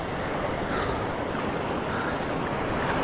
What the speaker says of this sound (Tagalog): Lalaki alon.